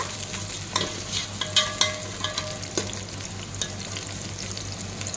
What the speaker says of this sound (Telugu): ఆనియన్ పచ్చిమిర్చి ఎండు నిమ్మకాయ అనేది వేసేస్తున్నాను ఇవి కూడా బాగా ఫ్రై చేసుకోవాలి